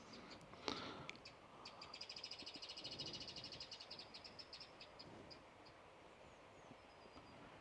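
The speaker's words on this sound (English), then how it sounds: "Eurasian blue tit." Eurasian blue tit singing in a Welsh garden, a faint, distant rapid trill of high repeated notes rising out of low background rumble, then thinning to a few scattered chirps.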